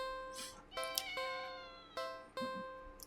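A cat in the video game Do NOT Take This Cat Home meows several times, close and clear, over a steady tonal music bed with faint talk early on.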